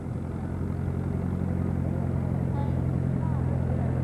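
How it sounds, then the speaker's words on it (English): An International W30 tractor on steel wheels runs at a steady, loud mechanical drone throughout, working a hard dirt track at a 1985 heritage weekend in Lanesville, Indiana. "Well, Buck, the old steel wheels just aren't hardly cutting in that old hard track."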